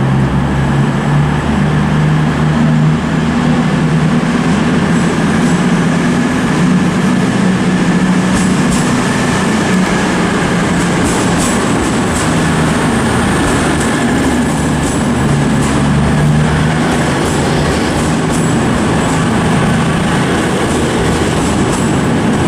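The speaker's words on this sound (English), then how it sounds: "departing now is 1605 cross-country service to Bristol Temple Meads and London Euston" A CrossCountry passenger train pulls out of Manchester Piccadilly station, its loud, steady rumble and rolling wheel noise filling the platform continuously with no speech.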